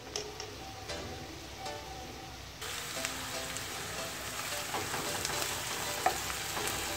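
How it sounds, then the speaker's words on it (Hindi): Onion and ginger-garlic paste sauté in a pan for keema, a soft frying sizzle that grows louder partway through, with faint stirring clicks and a sharp tap near the end, no voices. "और अदरक लहसुन के पेस्ट की मैं थोड़ी देर जो है चंद सेकंड के लिए इसकी बुनाई करूँगी।"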